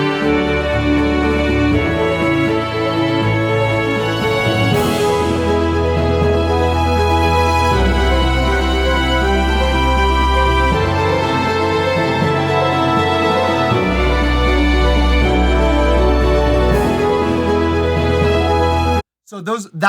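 Composed game music blending two interlocking character themes for a cleric and an artificer, playing as a full, continuous instrumental piece with a deep bass line shifting every few seconds under layered melodies, loud and steady before cutting off abruptly at the end.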